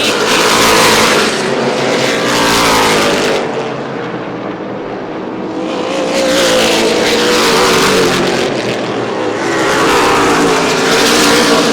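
Limited Late Model race cars on an asphalt track, loud engine roar that swells and fades in waves as cars pass close by, lap after lap.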